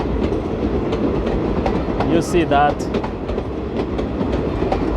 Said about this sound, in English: So it's a very long train, as you can see it.